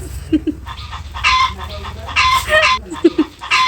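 A rooster clucks in short bursts, close and fairly loud, with a few sharp calls spaced across the few seconds against a low background hum.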